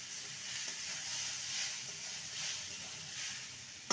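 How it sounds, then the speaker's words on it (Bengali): Water poured into a hot pan of vegetarian radish curry raises a loud, continuous sizzling hiss close by, lasting throughout and ending with a brief clunk. "1 টিস্পুনের মতো চিনি দিয়ে আবারও নেড়ে নিয়ে পরিমাণ মতন জল দিয়ে দেবো।"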